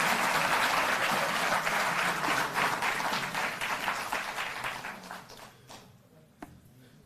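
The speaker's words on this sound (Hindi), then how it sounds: "जोरदार तालियों से आप अभिनंदन करें" Loud sustained audience applause at a Delhi Jal Board event marking 700 workers made permanent, a dense crowd clapping that gradually thins and fades out toward the end.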